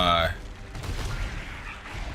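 Explosions burst in the Risk of Rain 2 video game, a loud blast at the start trailing into dense, rumbling in-game combat noise that continues without pause.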